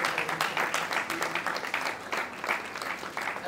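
A crowd at a business summit applauds a student debate team, a continuous wash of clapping at moderate level with no talk over it.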